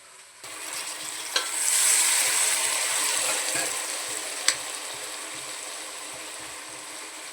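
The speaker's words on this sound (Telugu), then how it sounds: "ఇప్పుడు ఇది వాటర్ అయితే యాడ్ చేసుకోవాలి దాంట్లో" Water poured into country chicken curry cooking in a pressure cooker, a steady close sizzle and hiss with a couple of sharp clinks from stirring.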